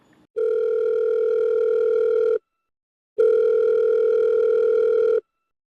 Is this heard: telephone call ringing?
yes